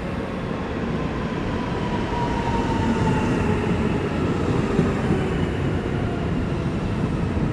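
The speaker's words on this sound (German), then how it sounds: "Und kurz darauf kommt dann auch mein Zug aus Aachen kommend" BR 1440 electric train from Aachen, bound for Essen, arrives at Krefeld station with a loud, steady rolling rumble and rail noise that holds for the whole stretch.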